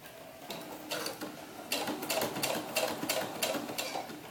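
A sewing machine runs in short bursts, then steadier rapid stitching, as it sews through sequined fabric for a doll headband; close, mechanical whirring with brief pauses where the work is turned.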